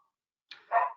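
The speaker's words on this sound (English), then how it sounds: "of course you can hear my dog in the background" A dog gives a single short bark-like yelp, somewhat muffled and off in the background, after a moment of silence, with no talking over it.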